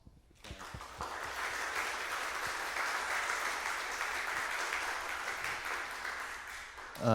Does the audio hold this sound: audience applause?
yes